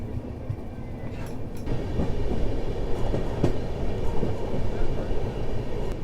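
A passenger train rumbles into Himmatnagar Junction station on the Ahmedabad to Udaipur line, a steady low rolling rumble heard from on board that swells slightly louder partway through, with faint voices around.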